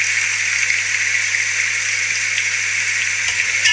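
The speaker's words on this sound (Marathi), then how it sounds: "सर्व कांदा हा मस्तपैकी ह्या तेलामध्ये फ्राय झाला पाहिजे" Onions frying in oil for a prawn biryani give off a steady, loud hiss and sizzle, unbroken and close throughout, with a low hum underneath.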